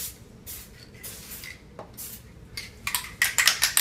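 An aerosol can of lubricant sprays a coating inside a part during spring cleaning, with several short, close hissing bursts in quick succession near the end after quieter handling noises, no voices.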